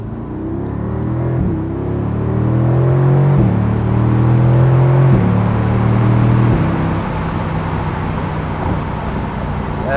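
A 2020 Mercedes-AMG GT R Roadster drives in comfort mode, its engine giving a loud, steady rumbling drone that climbs in pitch through a few upshifts, heard from close by with no talk.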